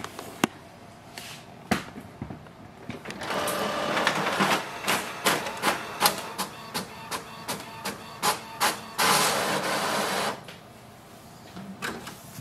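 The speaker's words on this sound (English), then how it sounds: "Print test page." An Epson WorkForce WF-7310 inkjet printer runs a test page, close by: a whirring mechanical hum with a series of rhythmic clunking pulses as the page feeds through, then the noise winds down.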